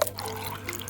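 Water pours into a rock tumbler barrel partly filled with rocks, a short watery gurgle with a few drips and splashes, close and fairly soft.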